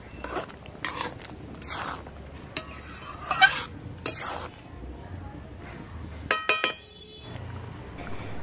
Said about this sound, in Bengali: তাই এখন ঢাকা দিয়ে দিলাম।